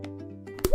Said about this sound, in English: Then you add several drops of color, blue, red,